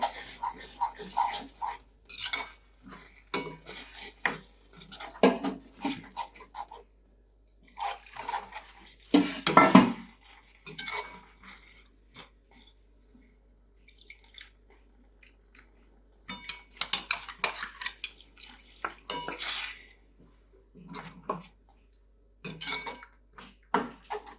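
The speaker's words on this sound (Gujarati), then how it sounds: "આપણે આમાં મસાલા એડ કરીશું અને ફુલાવર અને બટેકાને જે આપણે બોઇલ કરીને રાખ્યા છે એને આપણે એમાં એડ કરીશું" Spices, boiled cauliflower and potatoes for green pav bhaji are added to a pan and stirred, giving scattered bursts of clattering, scraping and clinking metal utensils separated by quiet pauses, with one louder clang near the middle.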